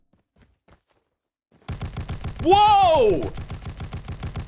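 Einhorn shotgun in COD Mobile fires in a rapid run of sharp, evenly spaced blasts after a near-silent start, while a voice exclaims loudly over the shooting.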